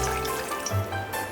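Caramelized sugar syrup, thinned with boiling water, being poured out of the cooking pan in a brief, close, continuous liquid splash and trickle lasting just over a second.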